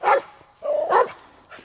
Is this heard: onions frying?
no